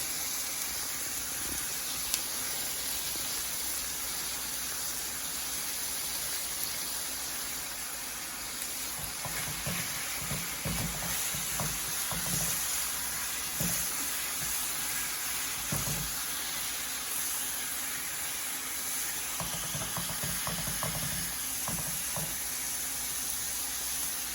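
Leftover chopped onions sizzle steadily in a pan, a soft continuous hiss with scattered crackles and a few scraping stirs, no one talking.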